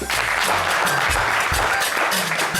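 Audience applause rings out steadily at a French-language variety show as a guest is welcomed to spin a prize wheel, sustained dense clapping with some faint voices underneath.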